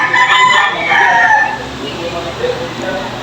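At a cockfighting arena, roosters crow loudly and close in overlapping calls during the first second and a half, then fade into a murmuring crowd backdrop with someone talking.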